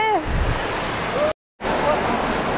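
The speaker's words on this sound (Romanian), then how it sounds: "Aceasta este cascada." Waterfall on a jungle trek, a loud steady rush of falling water broken by a brief dropout, with faint voices and a whistle-like tone over it.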